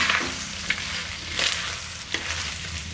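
Chicken pieces sizzling in a pan with a steady hiss, broken by occasional scrapes of a spatula stirring, close and moderately loud, as Pallipalayam chicken fry cooks down until its moisture dries out.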